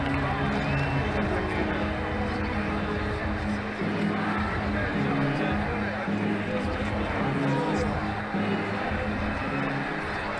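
Stadium crowd roaring and cheering steadily after a boundary four in the cricket video game Ashes Cricket 2009, a dense sustained wash of noise with broadband hubbub and no pauses.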